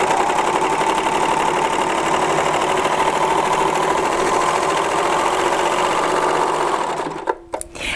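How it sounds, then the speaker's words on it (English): A serger stitching and gathering fabric into ruffles, a steady fast mechanical whir that runs loud and constant before cutting off near the end, followed by a couple of small clicks. "Now I serged off with that fairly large tail, and it gathered pretty good"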